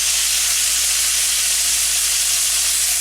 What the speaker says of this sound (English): cooking the fish on one side. We're going to flip it